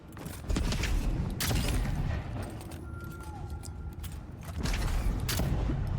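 Gunfire in the fantasy game Avowed, a few loud, sharp shots spaced across the span over rumbling game ambience, close and punchy, with a faint whistling tone between blasts.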